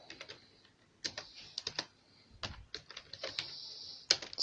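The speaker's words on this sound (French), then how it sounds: "on tape la commande Django." Someone types a command on a computer keyboard, the clacking close and crisp in uneven bursts with short pauses, sometimes single keystrokes and sometimes quick runs, with no talking.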